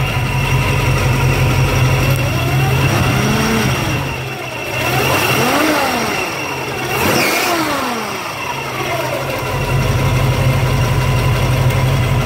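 A 1966 Ford Mustang coupe's V8 engine runs steadily at idle, a loud, continuous low rumble with a few brief swells and dips in pitch, heard alone without voices.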